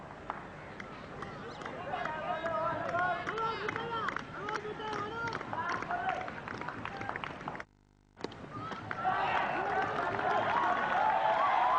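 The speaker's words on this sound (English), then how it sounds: "The crowd responding to Lewis on that occasion." Cricket crowd at the Sri Lanka vs England test match of 1993 applauding and cheering from the stands, a steady wash of clapping and crowd noise that drops out briefly, then swells again louder.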